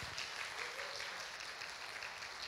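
An audience applauds steadily, a continuous dense patter of many hands clapping at moderate, even volume, heard as a fairly quiet wash with no break.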